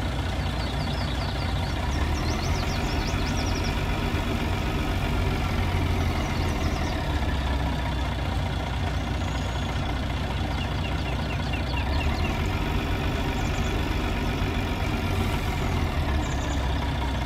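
A truck idles in Landwirtschafts-Simulator 19, a steady, even engine rumble with a low throb that holds unchanged throughout, with no talking over it.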